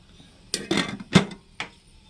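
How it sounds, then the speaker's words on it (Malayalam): A lid set onto a pot of biryani rice: a few close metallic clanks and scrapes over about a second, then one last lighter knock. "നമുക്കിത് മൂടി വയ്ക്കാം."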